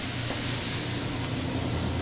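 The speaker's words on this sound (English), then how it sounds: "I love that sizzling sound" Pineapple fried rice sizzles in a hot pan as a steady, broad hiss that holds at an even level throughout, close and continuous with no talk.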